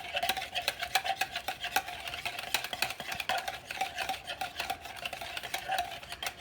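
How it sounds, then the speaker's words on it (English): A single large egg is whisked in a bowl, a rapid, steady clatter of a utensil tapping and scraping against the sides, close and fairly quiet, continuing without pause. "I'm going to mix that together"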